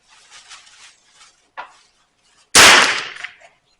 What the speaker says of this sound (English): I'm going to take one shot, see where this adjustment went.